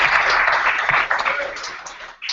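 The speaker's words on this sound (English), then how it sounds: "let's give a round of applause for Axxess," Audience applause at a Laravel developer meetup, a steady wash of clapping from a crowd that holds for about two seconds, fades briefly near the end and then picks up again.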